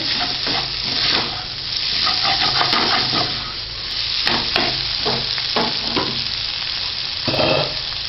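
Kothu parotta with gravy stirred and frying on a hot pan for a Madurai-style dish, with steady loud sizzling and repeated scraping and chopping clatter throughout, no talk.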